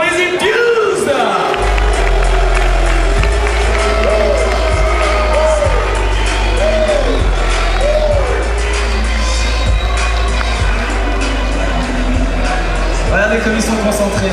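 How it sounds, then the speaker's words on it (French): A large esports arena crowd cheers and whoops for the English team Infused, loud and continuous, with heavy booming bangs and pulsing music underneath. "Applaudissements pour les Infused"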